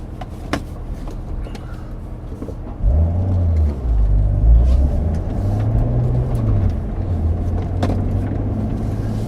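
C7 Corvette in track mode setting off on a lap, a quiet idle followed by a sudden loud engine roar with rising and falling rev tones that settles into a steady drone.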